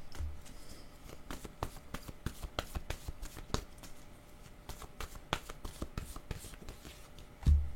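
Tarot cards being shuffled by hand, a quiet run of crisp, rapid card riffles and taps repeating irregularly, close and soft with no talking.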